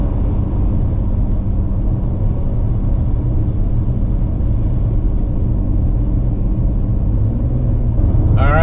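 An RV cruising down a highway on cruise control gives a steady, loud low road rumble and engine drone, continuous throughout with a slight rise at the very end.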